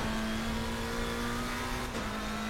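A car engine hums at a steady pitch while driving, with a constant drone and road noise throughout and a slight drop in pitch near the end.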